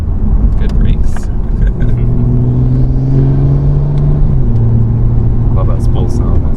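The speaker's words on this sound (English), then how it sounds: "Love that spool sound." A Toyota Supra 3.0 engine drones loudly from inside the cabin, with a rising whine as the turbo spools up and then settles.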